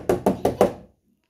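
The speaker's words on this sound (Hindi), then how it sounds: "दरवाजे की बाहर ठक ठक हो रही है" Four quick, evenly spaced knocks land on a door from outside, close and fairly loud, followed by silence.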